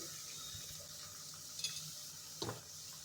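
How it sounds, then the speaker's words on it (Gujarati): Green onion sautéing in a pan for a green pigeon pea (tuver) thotha dish, a faint, steady soft sizzle with a couple of brief stirring scrapes and clinks, and no talking. "બધું જ મિક્સ કરીને આપણે અહીંયા સરસ સાતડી લઈશું"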